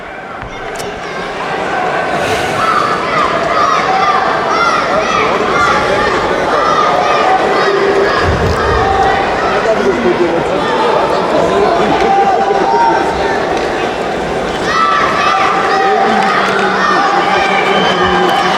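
An arena crowd at the World Judo Championships roars and cheers continuously, a loud, sustained wall of shouting voices and excited chatter swelling throughout, with scattered individual shouts rising above it.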